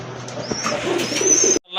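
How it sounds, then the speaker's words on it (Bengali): A pair of huge Bombay pigeons cooing softly nearby, low throaty coos beneath a faint high whine, ending with a brief cut. "প্রথমে আপনারা দেখতে পাচ্ছেন এক জোড়া বোম্বাই কবুতর, হিউজ সাইজের কবুতর"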